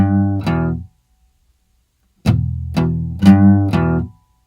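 A guitar intro riff with a half bend, played as a few ringing notes, then a pause, then a rising cluster of close, clear plucked notes with no voices.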